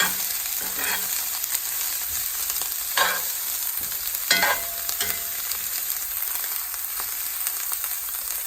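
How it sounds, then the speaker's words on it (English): Cajun corn maque choux stirred in a pan, with a steady sizzle of frying under a few louder scrapes and clatters of the spoon against the pan. "make sure that you're stirring it often so it doesn't burn"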